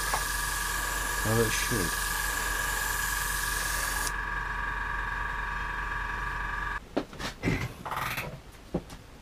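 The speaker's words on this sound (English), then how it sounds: "And the compressor works." Small airbrush compressor running for a Tamiya 1/48 De Havilland Mosquito B Mk.IV plastic kit build, a steady motor hum with tonal whine that cuts off partway, followed by someone speaking briefly.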